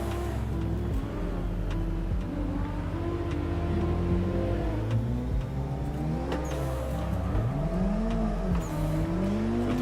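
Nissan 180SX engine in the racing sim Assetto Corsa, revving hard and shifting through gears on a drifting circuit, loud and continuous with rising and falling pitch sweeps throughout.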